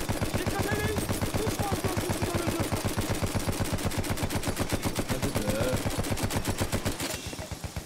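Sustained rapid-fire gunfire from a ship in Battlefield 1, a steady fast rhythm of evenly spaced shots running for several seconds before cutting off, with voices faintly underneath.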